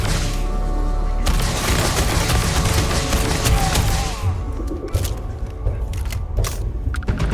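Rapid fire from a fire-effect gun in Starfield, a dense, loud burst of shots running for several seconds before thinning into scattered blasts and rumbling impacts.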